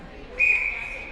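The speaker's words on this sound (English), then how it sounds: "Get ready to blow the whistle" A referee's whistle at a Kitchener vs Burlington soccer game gives one sharp, steady blast that rings on for under a second over faint field ambience.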